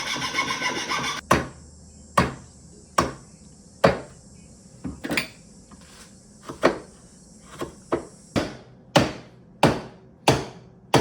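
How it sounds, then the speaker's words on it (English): Coping saw cutting thick, very hard Russian olive wood: a brief rasp of sawing, then a long series of sharp wooden taps and knocks at irregular intervals, close and fairly loud, with no talking. "now I'm going to cut out the waist with my coping saw"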